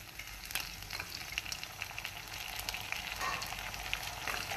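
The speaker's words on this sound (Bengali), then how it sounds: "দেখো, পেঁয়াজটা অনেকটাই ভাজা হয়ে গেছে।" Onion frying in a pan sizzles and crackles steadily, with occasional sharp pops and stirring scrapes over a continuous hiss, in the middle of making a fish-head curry.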